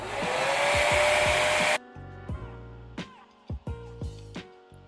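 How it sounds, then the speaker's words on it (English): A handheld blow dryer roars steadily while drying hair on a wig, then cuts off abruptly partway through, and a few sharp clicks and knocks of handling follow in the quiet. "I'm gonna spray and I'm gonna blow dry it together"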